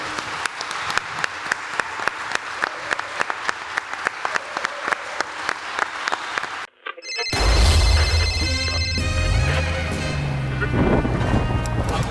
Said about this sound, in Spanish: La forma de darle las gracias es este fuerte aplauso que les vamos a dar ahora.